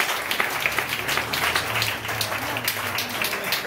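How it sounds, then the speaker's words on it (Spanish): A congregation at an evangelical service applauds, brisk steady clapping from many hands at moderate distance, continuing for a few seconds with no voices over it. "Deme el aplauso, Señor, por esta vida."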